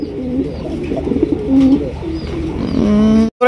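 Pigeons at a pigeon farm coo repeatedly in low, throaty, rolling calls, close and clear, with a brief pause near the end.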